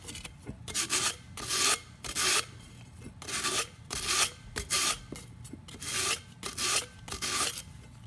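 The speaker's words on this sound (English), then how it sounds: "I'm just going to sand up top here" Sandpaper rubs around the lip of a glitter epoxy cup in a quick, regular series of close, scratchy rasping strokes, about a dozen of them with short gaps between, and no talking.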